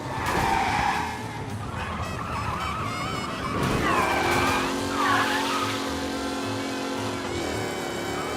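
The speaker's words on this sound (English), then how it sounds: "we got a race car driving at speed" A race car engine roars at high speed with tires squealing and skidding in the video game Mafia: Definitive Edition, then a steady engine drone with shifting pitch, loud and continuous throughout.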